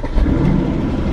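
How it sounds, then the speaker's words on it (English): An Aston Martin Vantage fitted with a sports exhaust, started up with a foot on the brake, gives a loud, steady deep engine rumble close by, with no talk over it. "This car has the sports exhaust."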